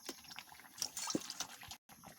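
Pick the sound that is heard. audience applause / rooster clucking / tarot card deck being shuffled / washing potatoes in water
washing potatoes in water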